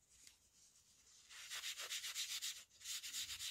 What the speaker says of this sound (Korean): 그리고 역시 화장솜으로 펴줘 볼게요